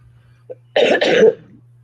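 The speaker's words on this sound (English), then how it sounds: "See, that cough is gross." A single harsh, wet cough in two close bursts, loud and near, preceded by a small throat sound, with silence around it.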